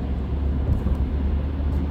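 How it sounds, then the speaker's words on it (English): Truck with exhaust pipes at the front passing by, a deep, steady low rumble holding at moderate loudness throughout the short stretch. "It's like his exhaust pipes are in the front of the truck sound."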